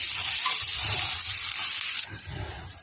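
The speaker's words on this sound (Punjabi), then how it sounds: "ਹੁਣ ਆਪਾਂ ਇਹਦੇ ਵਿੱਚ ਪਿਆਜ਼ ਪਾ ਦਵਾਂਗੇ ਪਿਆਜ਼ਾਂ ਨੂੰ ਆਪਾਂ ਹਲਕੇ ਬਣਾਵਾਂਗੇ" Onions frying in a hot pan with cumin and mustard seeds for a spiced okra and potato dish, a loud, continuous bright sizzle close up with faint stirring scrapes, easing slightly toward the end.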